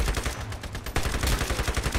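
An SMG fires in the Iron Sight video game, with rapid, continuous automatic shots in a tight rhythmic stream, loud and close, with no talking.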